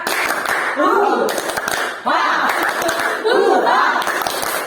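A group performs a rhythmic clapping cheer during a school group counseling session, with sharp, steady claps under loud chanting voices that rise and fall in bursts.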